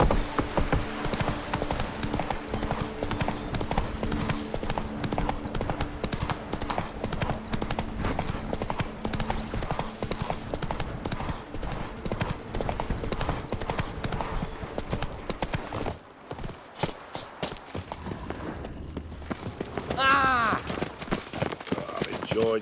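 Roach, the horse in The Witcher 3, gallops with rapid, steady clip-clop hoofbeats, loud and close, over game ambience, with a brief pause and a whinny-like sound near the end.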